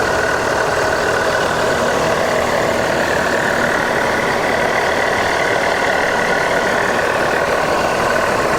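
A Mercedes-Benz 1526 engine at the back of an NPM Vircansa 22 bus idles steadily, with a continuous loud, even rumble and no voices throughout.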